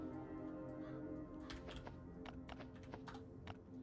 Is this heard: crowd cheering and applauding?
no